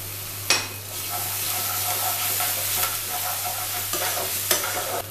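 Onions and ginger paste fry in a pan with a steady sizzle, while a spoon stirs and scrapes through them with occasional sharp clinks against the pan, close and continuous.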